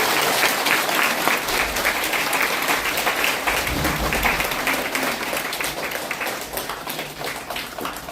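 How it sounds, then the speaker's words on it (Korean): Sustained, dense applause from an audience at a girls' middle and high school during a Seoul education superintendent candidate's visit, welcoming him to speak; continuous and fairly loud throughout with no talk. "큰 박수로 환영해 주십시오"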